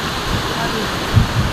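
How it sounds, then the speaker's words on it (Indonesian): A black waterfall in Lombok pours in a steady broadband roar, close and continuous, with a couple of low thumps near the end. "Inilah keindahan air terjun yang hitam."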